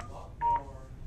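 A single short DTMF keypad tone as 1 is pressed on an Avaya IP Office phone, one clear beep over a quiet line.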